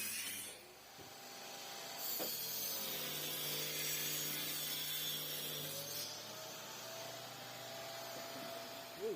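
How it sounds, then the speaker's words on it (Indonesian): A table saw rips a wooden board for a credenza, the blade's steady whining roar running for several seconds with a pitch dip as the wood feeds through, close and loud. "Pembelahan ini menggunakan meja potong agar lebih mudah dalam pemotongan kayu."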